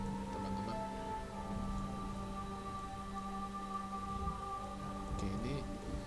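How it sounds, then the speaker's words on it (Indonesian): Steady rain falls in the medieval tavern-management game Tavern Master, a continuous even patter with faint tonal game music running underneath and no pauses across the stretch. "Wah, ini hujan-hujan ya teman-teman."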